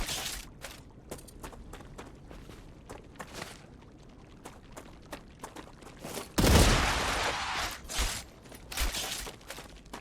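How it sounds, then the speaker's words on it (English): Rapid gunfire crackles in a StarRupture game firefight, short sharp bursts repeating steadily, then a loud mechanical clatter and rush as a magazine is swapped mid-battle, with further shots after. "Changing mags."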